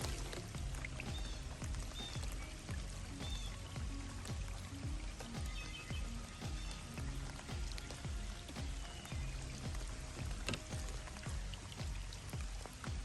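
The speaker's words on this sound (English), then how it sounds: "it wasn't supposed to rain today, but it is" Steady rain patters and splashes on a lake, dense and continuous with heavier drops pattering close by throughout.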